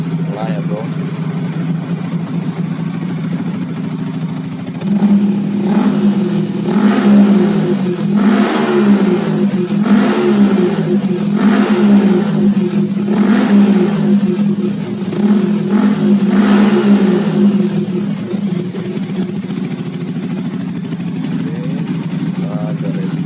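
Yamaha R15 VVA with a Tridente aftermarket exhaust in strip mode, revved repeatedly in loud rhythmic bursts over a steady close idle, about six throttle blips in a row.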